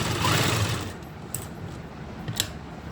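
A sewing machine runs along a kurti neckline in a short, steady whir that fades after the first second, followed by a couple of light clicks.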